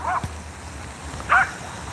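A Yorkie dog gives two short, high yips about a second apart, the second louder, over a low steady background hum with no talk.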